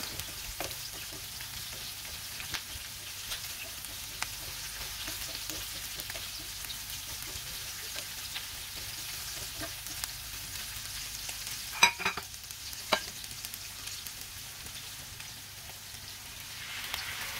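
Marinated beef and onion fry in a pan with a soft, continuous sizzle and scattered light clicks of stirring, fairly faint and even throughout.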